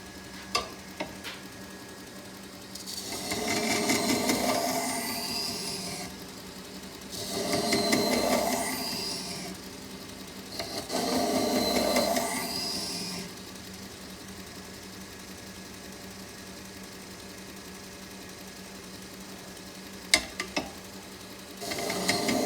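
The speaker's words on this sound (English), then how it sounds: "Now I'm starting with the 1200 grit engineered abrasive belt. This should give the second to last final cut on the bevel." Belt grinder sharpening a knife bevel on a 1200 grit engineered abrasive belt, three separate passes of hissing, rasping grind, each a few seconds long, with a quiet motor hum and small clicks in between.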